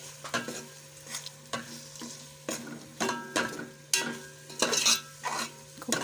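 Ginger-garlic paste fries in hot oil for egg biryani, a low sizzle broken by rhythmic scraping strokes of a spoon against the pan, close and fairly quiet.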